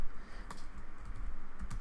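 Keys clatter on a computer keyboard in quick, uneven taps, close and fairly clear, with no talk over them.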